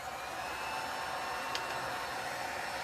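A heat gun on a low fan setting blows hot air over metallic alloy ink, producing a steady, even whoosh that holds unchanged throughout at moderate loudness.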